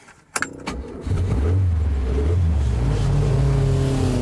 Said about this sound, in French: c'est une Alpine.